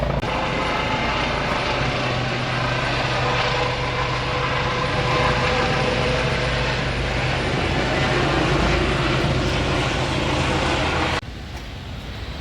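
Loud, continuous medical helicopter rotor and engine roar overhead in a Dutch village, steady throughout before cutting off abruptly near the end.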